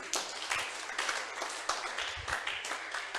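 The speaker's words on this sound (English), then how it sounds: "a round of applause for a job well done again" Scattered applause at a business talk event, a modest audience clapping in uneven bursts at moderate distance, fairly quiet overall.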